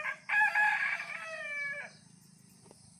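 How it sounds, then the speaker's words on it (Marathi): A rooster crows once nearby, a loud, drawn-out call that rises and then tapers off after about two seconds, followed by quiet background. "कोंबडा देतोय बाक."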